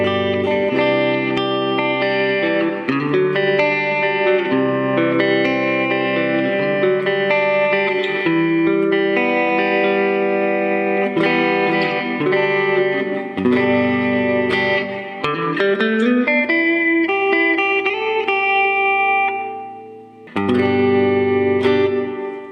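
Guitar through a Digitech Digiverb pedal on its hall reverb with the mix turned up, flowing chords and melodic notes blooming into a warm, spacious wash, loud and without talk.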